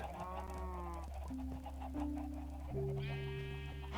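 Sheep in the Minecraft video game bleat repeatedly in sustained, buzzy electronic calls, several overlapping one after another over a steady low hum of game background.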